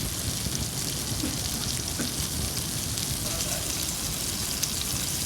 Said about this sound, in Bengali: এবার চুলার আঁচ বাড়িয়ে আরও 5 মিনিট ভেজে নিব।